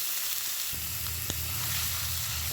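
Chicken pieces go into sizzling masala in a hot pan, a steady frying hiss that thickens and deepens as the meat lands, with a single sharp utensil knock.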